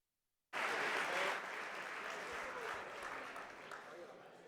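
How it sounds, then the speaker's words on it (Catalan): Loud, sustained applause from a convention audience at a national political party convention in Catalonia, starting abruptly after a brief silence and continuing steadily throughout. "Comencem amb un fort aplaudiment per la Maria Sanserric."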